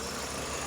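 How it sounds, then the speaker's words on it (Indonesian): A 2004 Toyota Vios G automatic with its 1NZ-FE 1500cc engine idles in a steady, even low hum, heard close up with no talking. "Dan ini suara mesinnya"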